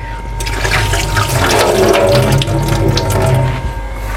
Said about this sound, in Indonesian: Nah ini kita bilas lagi, kita cuci sampai bersih.